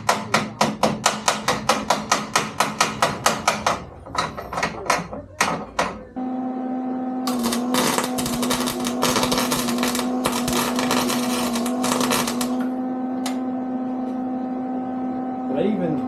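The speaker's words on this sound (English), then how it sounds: "I think I'm just welding onto the bottom part." Welding on the underside of a 1978 Harley Low Rider: after a run of sharp rapid tapping strikes, a steady buzzing hum with crackling bursts sets in for about ten seconds, close and loud.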